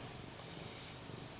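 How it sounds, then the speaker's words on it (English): A cat purring steadily and softly up close, a continuous low rumble with no pauses. "he's purring like crazy."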